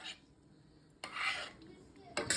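Stir-fried vegetables are scraped and transferred with metal utensils into pots for steaming fish, giving a few short clattering scrapes and clinks at close range with a quiet gap between them.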